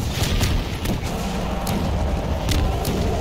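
Gunfire in the video game Half-Life 2, a dense barrage of heavy booming shots and thuds in quick succession, loud and continuous throughout.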